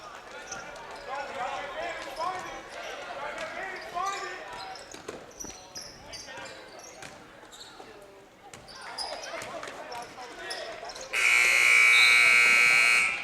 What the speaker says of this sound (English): That buzzer signals the end of the third quarter